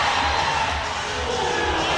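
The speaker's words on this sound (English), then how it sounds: "With a big shout from the crowd." A crowd at a Raiders match lets out a big shout, a dense sustained roar filling the whole moment at strong, even loudness.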